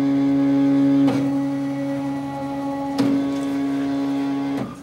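A ZSK embroidery machine hums steadily with a tonal drone as it traces the design range, punctuated by three brief mechanical clacks at roughly two-second intervals, no voices.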